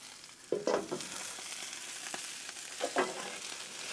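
Potatoes fry on a Blackstone griddle with a steady hiss. A spatula stirs them with a few scraping knocks, one cluster near the start and another near the end, and no voice is heard.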